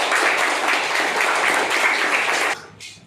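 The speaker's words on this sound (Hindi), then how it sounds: "तो जोरदार तालियां वापस एक बार" Children and adults at a kids' quiz game styled on Kaun Banega Crorepati applaud a child who answered every question right. The loud, continuous clapping runs for a few seconds, then stops abruptly, leaving a brief quiet tail.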